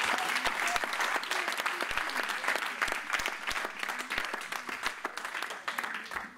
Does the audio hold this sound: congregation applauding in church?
yes